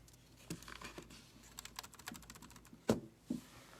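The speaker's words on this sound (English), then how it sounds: "I got to figure out why my keyboard isn't working right now" Quiet keyboard typing: irregular soft clicks and taps in short bursts, with a couple of louder key strikes near the end.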